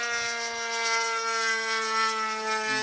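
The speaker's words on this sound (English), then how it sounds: "I'm gonna take the plane up there." An RC model airplane flying at an RC field, a steady high-pitched motor whine with a strong harmonic drone, holding fairly constant over a few seconds and slightly shifting pitch at the end, no talk.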